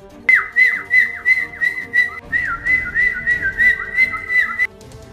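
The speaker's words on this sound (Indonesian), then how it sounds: "Tiba-tiba menggema suara suitan dari arah utara yang dibalas oleh suara suitan dari arah barat." Human whistle calls echoing across open country, one from the north answered by another from the west, a series of rising and falling trilled whistles in quick succession, loud and close with no talk.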